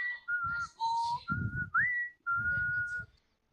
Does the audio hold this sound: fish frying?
no